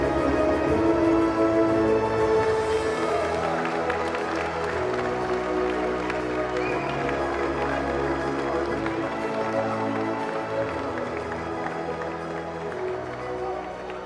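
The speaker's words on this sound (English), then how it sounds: "It's going to be a round of applause for Ms. Sachini Suravira." An audience at a school basketball encounter's award ceremony gives a sustained round of applause for a prize-winning teacher, dense clapping and crowd noise that runs steadily and fades slightly over several seconds.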